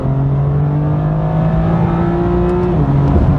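A BMW M2 engine holds a steady, loud drone at close range, with clear harmonic tones rising slightly before a brief dip near the end; no voices.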